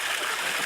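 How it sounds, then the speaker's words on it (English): Water spilling over the edges of a custom-built above-ground pond as a small waterfall, a loud, steady, close rushing splash with constant dripping texture. "it's waterfalling, no doubt, but a little bit of dripping off the edges too"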